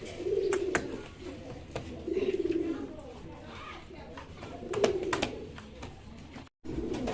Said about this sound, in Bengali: এখানে কিন্তু মাশাআল্লাহ আরও এক জোড়া কবুতর আছে, ইন্দোনেশিয়ান কালারের শৌখিন কবুতর